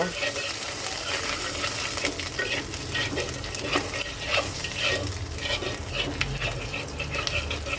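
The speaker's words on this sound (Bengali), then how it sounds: "এরপর দিয়ে দেব জিরা জিরা ফোড়ন সব কিছু সুন্দর করে একটু ভেজে নেব" Radhuni and cumin seeds frying in hot oil with ginger for a Bengali ilish-head and ridge gourd shukto, a steady dense sizzle and crackle with light stirring clatter throughout.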